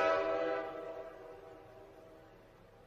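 A short train gives a horn blast that starts strong and steadily decays over a few seconds, heard alone without talk.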